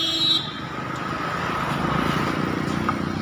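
A New Holland TX 3230 tractor with a three-cylinder 45 HP engine, direct axle and four-wheel drive, runs at a steady, loud idle, its rough diesel throb continuous and close throughout.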